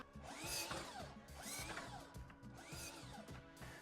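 A power drill countersinking holes in wooden boards for a kids' patio chair, faint repeated whirring passes that rise and fall in pitch about three times in a row.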